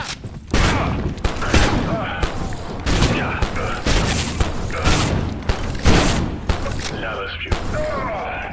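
Rapid gunfire in the video game Abiotic Factor, dense bursts of loud shots and booms that crowd the whole stretch, under a player's occasional excited speech.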